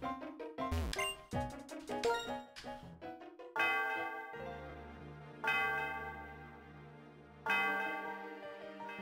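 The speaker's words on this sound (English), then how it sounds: "Ringing the bell." Bell chimes from the video game Pokemon Black, a series of bright ringing tones over game music, with three strong struck peaks that each fade into a long sustained ring.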